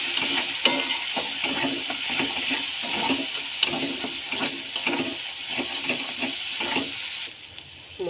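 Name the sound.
spices being sautéed in pan for fish curry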